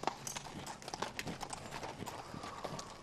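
Hooves of a horse being ridden at a walk clip-clop in an even, steady rhythm, fairly faint and close, with light background noise.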